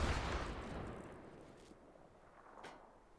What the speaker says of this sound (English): Field artillery.